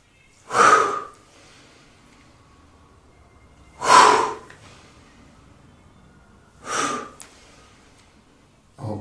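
Deep, slow breaths during a relaxing yoga session come in three loud, close, airy rushes spaced a few seconds apart, with quiet stillness between them.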